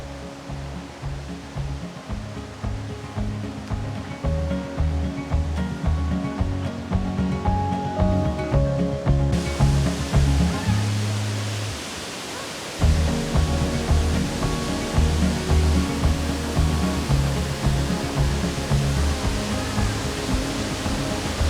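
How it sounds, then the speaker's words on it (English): A really big waterfall at High Falls Gorge in the Adirondacks, dropping into a pool, gives a continuous broad rushing roar, loud and steady with a brief dip midway. "And a really big waterfall."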